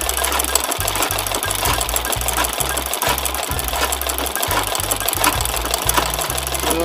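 An embroidery sewing machine stitching a chili design onto a dress shirt runs with a fast, steady mechanical thumping, pausing briefly between short runs of stitches, close and loud with no talk.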